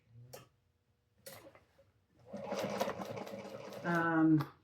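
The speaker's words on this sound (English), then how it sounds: "I sew it on the gusset side." A sewing machine stitches the gusset of a crossbody bag, a close rapid mechanical whirring and ticking run that follows a few faint handling taps and speeds up toward the end.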